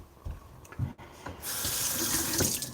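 A tap runs for a quick rinse of a freshly honed straight razor, a few soft knocks and handling sounds first, then a steady, close stream of water gushing into a sink for over a second.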